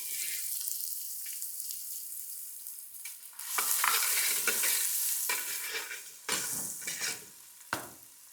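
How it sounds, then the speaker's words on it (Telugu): Spiced masala and a large chopped onion fry in a pan for mutton keema matar curry, giving a steady sizzle with bursts of louder frying and stirring scrapes, no voices. "మసాలా లైట్‌గా వేగుతున్నప్పుడే దీంట్లో ఒక పెద్ద సైజు ఉల్లిపాయ చాప్ చేసి వేసుకోండి"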